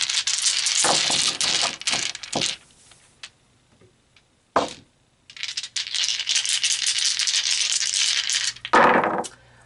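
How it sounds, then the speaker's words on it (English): Dice are shaken and rattled hard in a container in long, loud, dense clattering bursts, broken by a few sharp single clicks and short pauses, close up with no voices. "So let's pull some dice."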